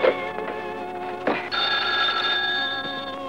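An old telephone bell rings with steady electric trills, loud and close, with a brief interruption partway through before the ringing resumes, and no voices present.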